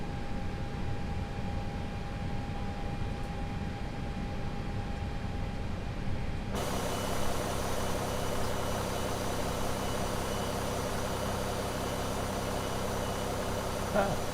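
Airbus A320 IAE engines start up in a flight simulator, beginning as a low, steady rumble with a faint tone, then shifting abruptly halfway into a louder, broader roar that keeps building. No one speaks.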